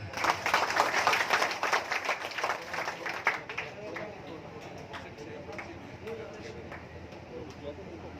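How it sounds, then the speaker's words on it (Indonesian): Seminar audience applauding in a hall, dense loud clapping at first that thins to scattered claps and murmuring voices as it dies away over several seconds. "Tepuk tangan semuanya"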